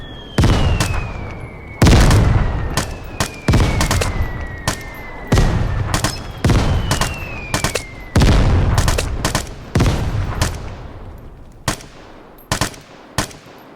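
Ordnance strike in the game Vigor: a long barrage of loud, close explosions and heavy blasts, irregular and repeated for over ten seconds, some trailed by whistling incoming shells, with no talk.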